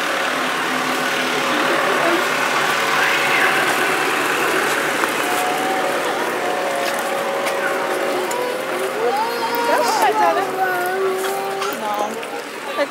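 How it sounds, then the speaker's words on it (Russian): A tractor engine running steadily as it pulls passenger carriages through a zoo, a continuous mid-distance drone heard beneath crowd chatter and voices, with a few whistle-like tones rising near the end. "Как видите, этот трактор в действии."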